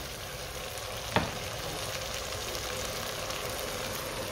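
Potato and chicken snack filling fries in a pan while a tablespoon of chili sauce is stirred in, giving a steady, even sizzle throughout with one sharp utensil tap near the start.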